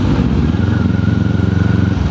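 A motorcycle engine rumbles loud and close with a steady low throb, ridden on a Philippine road, the pulsing exhaust note holding even across the short stretch.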